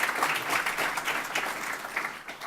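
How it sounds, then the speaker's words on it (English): An audience at a college and career pathways summit gives a round of applause, a steady wash of many clapping hands at moderate distance, continuous and fairly quiet. "All right, round of applause"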